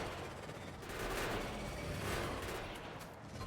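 Distant, muffled gunfire from automated gun turrets rattles on continuously in the video game Factorio, a faint dense stream of rapid shots with no voices.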